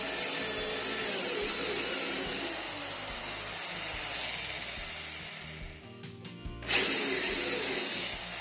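Power drill boring into the frame of an interior door while a handle is being installed, a steady close whine that runs for most of the stretch, dips briefly, then resumes loudly.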